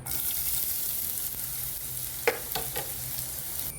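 Carrot frying in ghee in a hot pan: a steady, close sizzling hiss runs throughout, with a few sharp stirring scrapes and clicks near the end.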